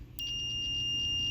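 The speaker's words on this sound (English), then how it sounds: "If you put your multimeter on continuity, then when you touch each end of the leads together, you'll get a beeping noise." A steady high-pitched electronic beep from a multimeter on continuity test starts abruptly and holds continuously, clear and close over a faint low hum.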